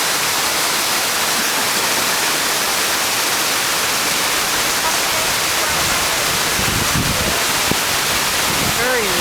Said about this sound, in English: The waterfall in Grenada.